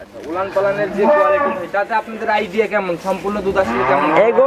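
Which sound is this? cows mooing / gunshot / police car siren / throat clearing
cows mooing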